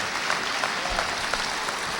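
Crowd applause at a religious gathering welcoming Minister Akbar Muhammad, steady sustained clapping from a large audience filling the whole stretch at an even level.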